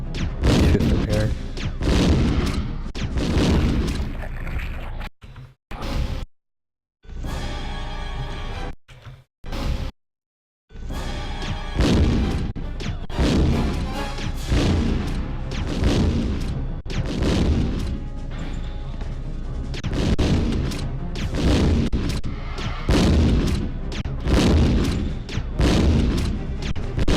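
Gunfire in a video game boss fight during a speedrun, loud booming shots in rapid repeated bursts that fill nearly the whole stretch, with brief silent gaps near the middle.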